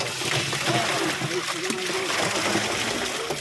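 Water is poured and splashed over freshly netted fish at a pond's edge, a continuous close sloshing with people talking over it.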